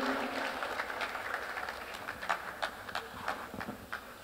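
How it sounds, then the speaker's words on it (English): Quiet applause from a church marriage conference audience. Scattered, uneven claps stand out sharply over a soft background wash, and the rhythm is irregular as the ovation thins out. "With a round of applause, let's welcome Lady Pastor Nana."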